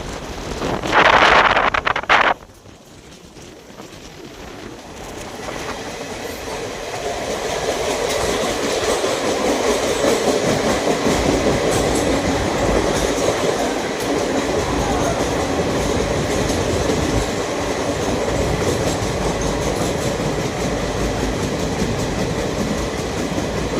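Passenger train on the Prayagraj to Vijayawada route running through a tunnel: a brief loud burst early, then a steady, enclosed roar of wheels and rushing air builds and holds throughout, with no talking.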